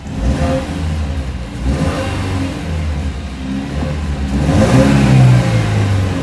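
A four-cylinder turbo engine in a manual Camaro revs up a couple of times, a loud mid-pitched roar rising and falling over a steady running rumble, close by.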